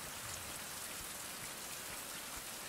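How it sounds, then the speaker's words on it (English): Rain falls in the Caribbean island survival game Survival: Fountain of Youth as a steady, soft hiss of drops that stays even throughout, with no voices. "And now it's raining again."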